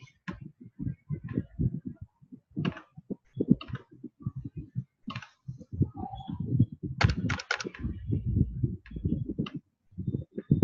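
Someone types a product name on a computer keyboard, a close run of soft, uneven key clicks in quick bursts with a few louder taps, no talking.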